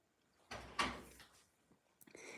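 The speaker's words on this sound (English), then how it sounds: "Riley, close your door, please." A household door closes nearby with a muffled thud followed by a fading rattle, and then a couple of softer knocks and clicks come after it, with no speech.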